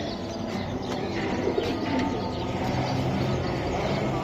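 Pigeons coo steadily at a crowded pigeon market, with soft chirps and a brief flutter of wings over a busy background hum.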